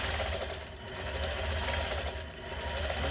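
A Gammill Elevate longarm quilting machine stitches a table runner, giving a steady fast mechanical whirring and needle chatter with a low motor hum, continuous and close, slowly swelling and easing.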